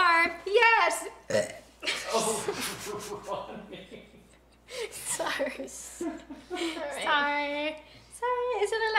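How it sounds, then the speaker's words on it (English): Burps during a live pancake-making session, several loud, gurgling belches scattered between bursts of chatter and laughter from young women, with a short quiet gap midway. "Is it a live stream without a burp here and there?"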